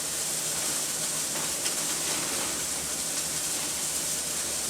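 Steady, dense hiss of food sizzling in a hot pan, continuous and fairly close, with no pauses or voices.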